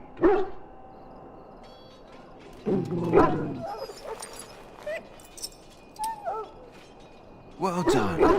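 A wounded dog in the Dragon Age: Origins video game whimpers and gives a few soft barks in scattered short bursts. Spoken lines and quiet background ambience run between the dog sounds.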